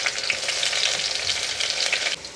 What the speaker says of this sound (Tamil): கொஞ்சம் எண்ணெய் ஊற்றிட்டு கடுகு போட்டாச்சு.